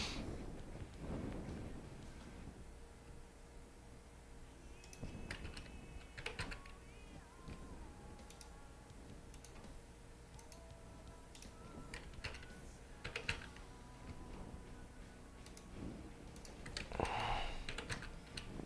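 Computer keyboard typing during a Shop Titans gaming session: irregular bursts of quiet key clicks and taps, close but soft, running steadily with no talking.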